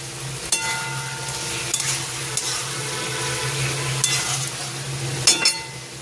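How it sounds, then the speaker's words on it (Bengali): Boiled potatoes frying in a spiced egg curry masala give off a steady, close sizzle, broken by a few sharp clinks and scrapes of stirring. "দেখো আলু ডিমের মশলা কষানো হয়ে গেছে। এবার দিয়ে দেবো সিদ্ধ করা আলুটা।"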